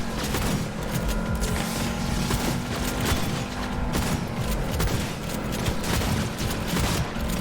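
Shotgun fire in Cyberpunk 2077, a dense run of loud blasts and impacts packed over several seconds amid busy combat noise, heard close and forceful throughout.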